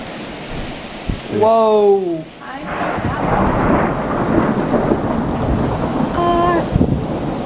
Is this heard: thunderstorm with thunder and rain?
yes